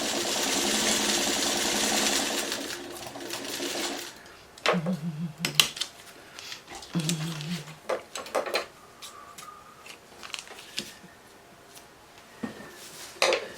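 A sewing machine running a very tiny stitch at 22 stitches per inch through foundation paper piecing, a dense whirring burst at the start followed by quieter short bursts and handling clicks.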